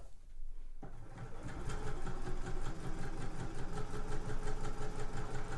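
Sewing machine stitching a festive cushion cover, running steadily with a fast, even mechanical chatter that continues for several seconds after a brief quieter start.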